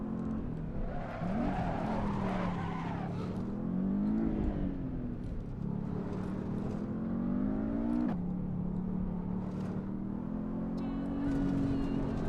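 A car in a driving video game whines its engine continuously while the tires scrub and skid as it fails to stop, with the pitch rising and falling over sustained road noise.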